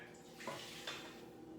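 Water pours from a cup into chocolate fudge cake mix in a bowl, a faint steady splashing with two brief louder surges.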